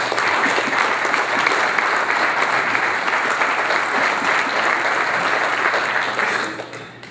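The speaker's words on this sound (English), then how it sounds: "Let's give those businesses an applause." An audience applauds award-winning local businesses at an annual report event, with loud, dense, sustained clapping that fades out near the end.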